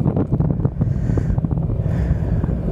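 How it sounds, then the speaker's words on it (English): Steady wind rumbles and buffets the microphone while riding a Yamaha XMAX 300 scooter on a quiet country road, a low, constant roar with gusty surges throughout. "Starting to get a little windy."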